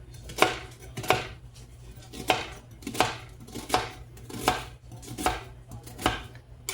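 A knife slices food into pieces on a cutting board during a home ribeye steak dinner, a steady rhythm of about ten crisp chops roughly 0.6 seconds apart, close and clear with no talk.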